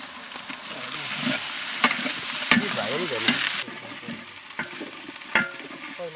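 Ginger garlic paste sautés in oil with onion and whole spices in a pan, a busy sizzle broken by repeated scraping stirs and spoon knocks in an outdoor village kitchen.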